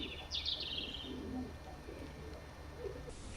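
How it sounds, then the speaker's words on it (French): A pigeon coos softly a few times in a quiet outdoor setting, while a brief bird chirp sounds near the start. "Entendre roucouler un pigeon."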